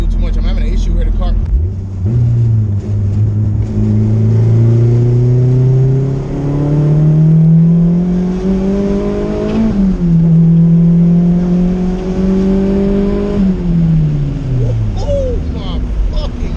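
A stock-sleeve turbocharged Honda Civic running about 26 psi accelerates hard through several gears, the loud close engine note climbing steadily, dropping at each shift and climbing again, with a person talking over it.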